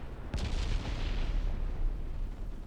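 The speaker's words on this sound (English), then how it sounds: "Some of her ammo has been detonated, it seems." A warship's ammunition detonates in the naval video game Ultimate Admiral Dreadnoughts, opening with a sharp heavy blast followed by a long rumbling roar that slowly fades, without any voices.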